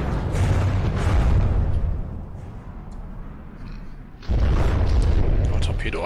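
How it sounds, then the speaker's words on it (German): Heavy booming explosions from the video game From the Depths roar in close succession, fading to a rumble midway before another loud blast erupts and rolls on. "Ziemlich viele Explosionen."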